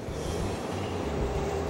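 A subway train running through a station, a steady, loud rumble with a sustained wheel whine throughout, no talking over it.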